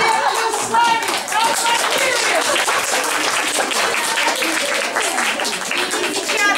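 A concert audience applauds a young music ensemble before a Glière dance from the opera Shah-Senem, with steady, dense clapping throughout and a voice speaking over it near the start.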